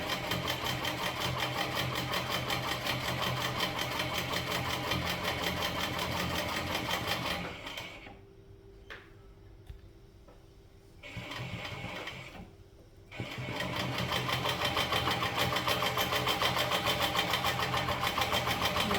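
Sewing machine stitching a quilt, running in a steady continuous whir that cuts out for a few seconds midway, with a brief burst between, then resumes at full speed.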